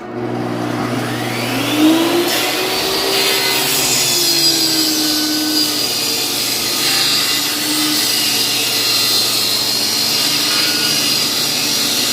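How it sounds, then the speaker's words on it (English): Wood being trimmed to size by a power saw in a workshop: a loud, sustained whining cut that rises in pitch at the start, then holds a steady buzzing drone for many seconds, close and without talk. "I'm going to trim it down to about 4 3/4 inches."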